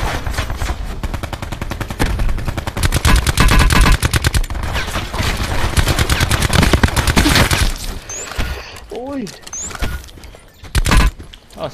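Gunfire in a video game comes as loud, dense bursts of rapid automatic shots, nearly continuous for several seconds, then easing off into scattered shots with a few electronic tones.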